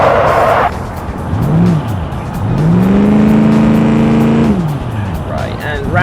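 A land yacht car in the racing game Automation drives loudly with a steady engine drone whose pitch swoops and then holds, with brief tire hiss as it brakes toward a corner.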